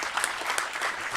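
An audience applauds briefly at a pilot project event, a dense, even wash of clapping with no speech.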